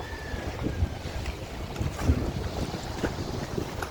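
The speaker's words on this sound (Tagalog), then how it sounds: "lakas po ng alon" Strong sea waves wash and slap around a boat on open water, with heavy wind buffeting the microphone in a continuous roar, and no one speaking.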